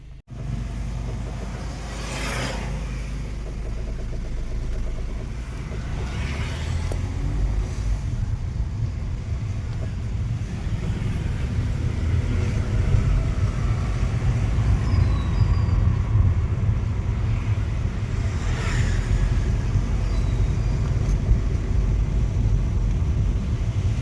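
A vehicle on a road approaches with a steady, loud engine rumble and road noise that builds gradually and holds for the whole stretch, with no clear voices over it.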